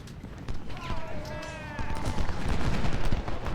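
American Civil War battle gunfire in Ultimate General: Civil War, with rifle and artillery shots cracking in ragged volleys over a busy battlefield din, some sounding distant and some near, and a voice speaking underneath.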